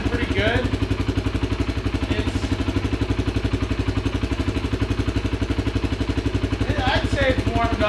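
Kawasaki Brute Force ATV engine, warmed up and running through its exhaust, idles with a steady rapid thumping pulse throughout, close and constant, with brief faint chirps over it.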